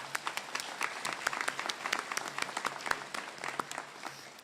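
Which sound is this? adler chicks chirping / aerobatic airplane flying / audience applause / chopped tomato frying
audience applause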